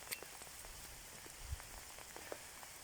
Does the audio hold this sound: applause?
no